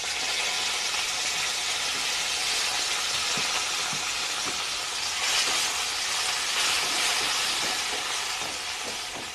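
Onion, a bay leaf and boiled elephant apple frying in a pan, a steady close sizzling hiss with faint crackles that swells slightly midway and continues without talk.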